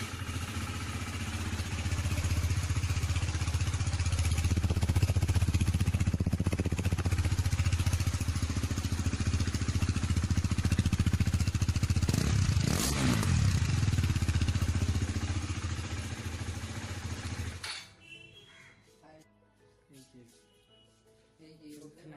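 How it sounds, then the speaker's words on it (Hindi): KTM Duke 390 motorcycle engine running with no exhaust fitted, loud and raw with a steady rough roar and a brief rev around the middle, cutting off abruptly near the end to quiet background. "मैं आज आपको सुनाने वाला हूँ विदाउट एग्जॉस्ट ड्यूक 390 की साउंड।"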